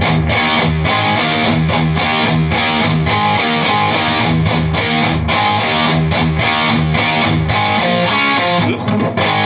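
Distorted electric guitar playing a riff: two palm-muted low E chugs, then a power chord, repeating in a steady driving rhythm, loud and continuous throughout.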